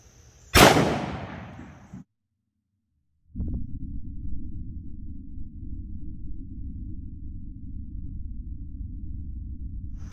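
A single sharp, loud .357 Sig pistol shot, Federal HST 125-grain round fired into ballistic gel, cracks once and decays over about a second, followed by silence and then a steady low hum.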